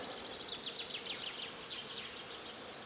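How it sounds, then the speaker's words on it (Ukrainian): Bees buzzing on a flowering goat willow near an apiary, a faint, even outdoor hum with light, high chirps running over it. "Козяча верба гудить від бджіл."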